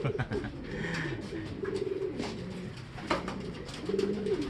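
Racing pigeons coming down onto a landing board, several close, soft rolling coos repeating over faint background noise and flutters, no talking.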